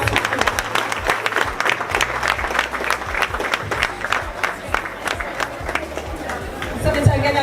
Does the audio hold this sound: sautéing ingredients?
no